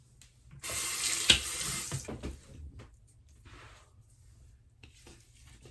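Water from a tap runs for about a second and a half while beard trimmings are rinsed away at a sink, with one sharp knock partway through, then a few fainter splashes and drips before near quiet.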